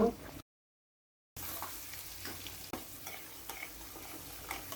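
Sliced onions for mutton bhuna fry in hot oil with a soft, steady sizzle, broken briefly by a silent gap, then resume with intermittent scrapes and taps of a spoon stirring in the pan.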